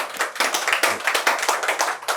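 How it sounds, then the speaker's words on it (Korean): An audience at a Korean fortune and feng shui lecture applauding: a dense, steady burst of close hand clapping with a quick, uneven rhythm, alone without talk. "다시 한번 박수"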